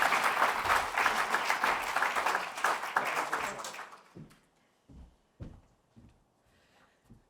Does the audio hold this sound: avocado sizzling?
no